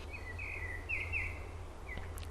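A blackbird sings outdoors, several clear whistled phrases rising over a low steady background hum, fairly distant and alone without voices.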